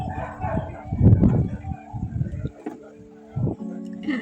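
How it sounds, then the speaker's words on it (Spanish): Dogs fight and bark in rough bursts, snarling and yapping in uneven clusters, fairly close, with people talking over the commotion. "Y esa pelea de perro"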